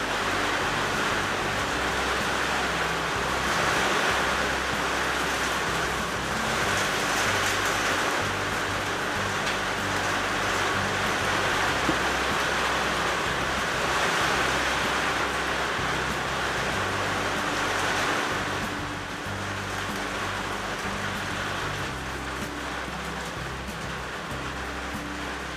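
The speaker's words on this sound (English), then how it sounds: "You can probably hear the rain will be drowning me out." Steady rain pours down outside a woodworking shop at night, a dense continuous hiss of drops on surfaces with a low rumbling undertone, constant throughout with no talk.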